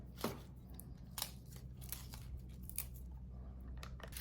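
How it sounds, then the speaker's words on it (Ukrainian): A bunch of arugula torn into pieces by hand, giving a few soft, crisp leafy rips and crackles, quiet and close, with a brief sharper snap near the start. "беремо блюдо і отакий пучок руколи. І просто нариваємо шматочками."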